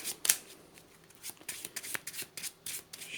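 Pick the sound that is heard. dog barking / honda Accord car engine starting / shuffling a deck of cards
shuffling a deck of cards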